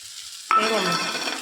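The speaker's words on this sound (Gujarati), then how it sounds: "હવે એમાં ઝીણું સમારેલું ટમેટું નાખીશું।" Finely chopped tomato drops into a hot frying pan, setting off a sudden loud sizzle after half a second of quiet that then holds as a steady, close hiss.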